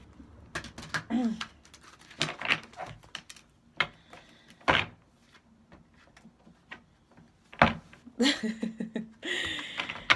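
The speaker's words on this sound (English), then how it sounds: "that means it's time for me to stop shuffling" Tarot cards riffle and snap in short irregular bursts, close and crisp, between quiet stretches with occasional soft voices.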